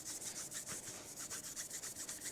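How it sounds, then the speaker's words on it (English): A gray Scotch-Brite pad rubs briskly back and forth across stainless steel on a mini truck build, making a rhythmic, hissing scrub of about a dozen quick even strokes, close and alone. "This is just a gray Scotch-Brite pad."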